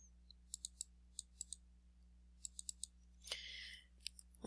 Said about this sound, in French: Donc, je vais cliquer 2 fois